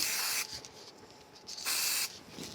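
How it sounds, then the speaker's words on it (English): Short bursts of spray adhesive hiss out for attaching card pieces in a craft project, two loud blasts separated by a quieter gap with faint rubbing, no speech. "I'm going to go ahead and do a little bit of a spraying, and we'll attach those 2"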